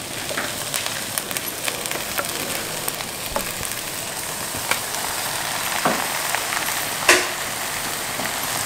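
One kilo of washed chicken sizzles with onions in a pan over a medium flame for chicken thoran, a steady crackling fry with occasional stirring scrapes and pops.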